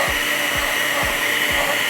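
An electric mixer beats batter with egg yolks, a steady bright motor whir with soft regular thumps about every half second as the beaters turn through the bowl.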